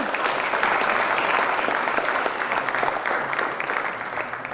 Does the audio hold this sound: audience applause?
yes